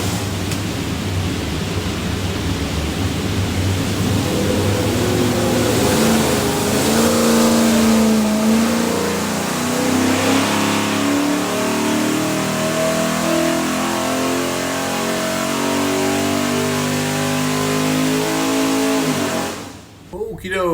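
A stack-injected 363 cubic inch Ford V8 with Holley Terminator fuel management and a custom hydraulic roller cam roars on a dyno, sweeping up through a long loud pull before cutting off abruptly near the end.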